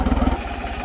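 A tractor engine labours steadily while pulling a subsoiler through a field, producing a loud, close, pulsing throb that is heaviest at the start and then settles into an even drone.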